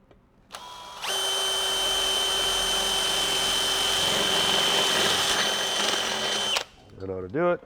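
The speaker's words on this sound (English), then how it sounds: "Drill." A power drill whirs loudly at a steady high pitch for about six seconds, then winds down with a brief rattle as it stops.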